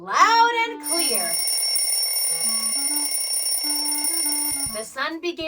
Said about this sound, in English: My alarm clock rang loud and clear.